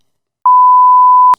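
A flat censor beep, a single pure steady tone just under a second long, sits loud and alone over a bleeped-out spoken name, with a faint clipped voice fragment after it.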